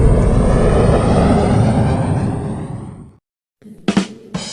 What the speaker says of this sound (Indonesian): Itu pesawat Pin.